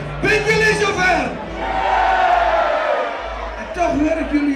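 Live stage show crowd roaring back a loud shouted reply, a big massed cheer of many voices swelling and sustained, then a fresh burst of shouting near the end.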